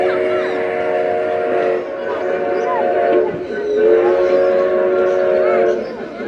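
A train horn sounds at the Yelagiri bird park and lake: two long, steady, loud blasts, close by, with a short dip between them and a rumbling background underneath.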